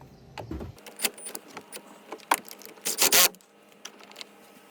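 A 10 mm wrench tightens the negative battery cable clamp on a 2014-2018 Chevrolet Silverado or GMC Sierra, giving a series of close metallic clicks and clanks of varying loudness with short pauses between.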